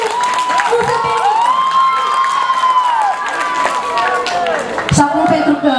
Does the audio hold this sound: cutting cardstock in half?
no